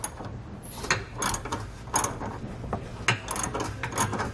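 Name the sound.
19mm socket wrench tightening hitch bolts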